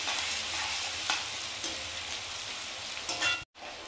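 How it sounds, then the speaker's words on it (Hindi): Onions and garlic frying in a pan until they change colour, a steady close sizzle with occasional stirring scrapes and a brief cut to silence near the end. "प्याज को हम अच्छे से सेक लेंगे"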